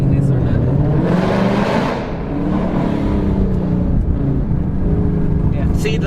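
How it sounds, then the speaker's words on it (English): A Ford Mustang GT V8 engine revs with a deep, throaty rumble, rising and settling in a steady, powerful growl close by. "Definitely a nice V8 sounding."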